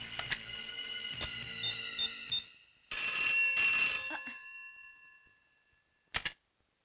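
An old-style telephone bell rings in bursts, with a longer ring in the middle and a short final burst before it is answered, loud and close with no voices.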